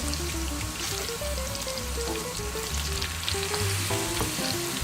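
Chopped onions sizzle in a pan as they fry until browned for a Lahori tarka masoor dal, a dense, steady crackling hiss that runs beneath melodic background music.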